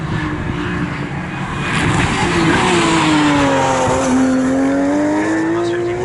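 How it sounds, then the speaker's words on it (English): Ginetta race cars run close together on a circuit in a GT Cup championship, with a loud, continuous engine roar whose pitch sweeps and shifts as the cars pass at close range. "Ginetta battle running very close together."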